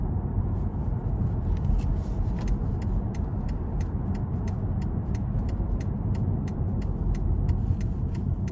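A 2007 Mercedes-Benz S550 with a 7-speed gearbox pulls hard out of a corner, its engine giving a steady, full low rumble heard from inside the cabin, with a regular light ticking running through.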